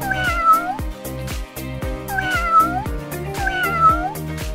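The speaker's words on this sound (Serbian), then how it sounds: "Mačka." A domestic cat meows three times in clear, evenly spaced calls over a rhythmic musical beat.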